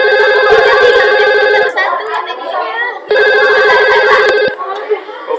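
A VoIP telephone rings after extension 0901 is dialed. Two loud electronic ring bursts are separated by a pause, and quiet chatter runs in the gaps.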